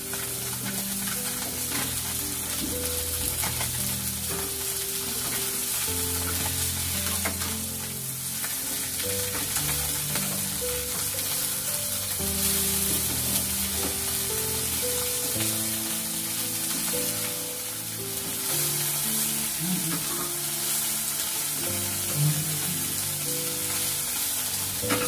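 Small fish frying in hot oil in a home kitchen, sizzling steadily and busily throughout as the pieces are turned over, with soft clinks and stirring scrapes.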